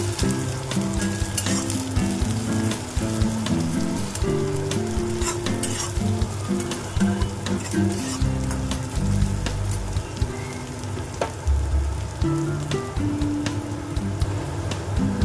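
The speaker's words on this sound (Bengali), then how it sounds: "পেঁয়াজগুলো প্রায় ভাজা হয়ে এসেছে, আমি এর মধ্যে রসুন কুচি দিলাম আর একটু আদা কুচি দিলাম।" Chopped onion, garlic, ginger and slit green chillies fry in oil in a pan with a steady, close sizzle and crackle that runs the whole time, with no talking over it.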